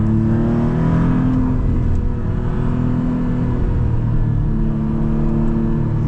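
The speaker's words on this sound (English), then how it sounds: "the engine just provides all the character that you'd expect from a Maserati. Like it's just really animated, producing all kinds of cool sounds" Maserati MCPura sports car engine accelerating and revving on a test drive, a loud, steady, rumbling drone heard from inside the cabin with pitch shifting as it pulls.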